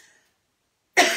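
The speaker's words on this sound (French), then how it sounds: "Je sens que j'ai envie de tousser là." A single short cough bursts out at the end after near silence, close and fairly loud, in a home kitchen while onions and broth are being prepared for soup.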